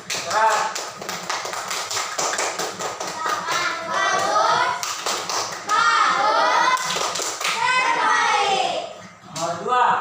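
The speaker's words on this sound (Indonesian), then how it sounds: "Ya, tepuk tangan dulu." A classroom of children claps together in sharp, rhythmic bursts. Children's voices and an adult's speech mix in between the rounds of clapping.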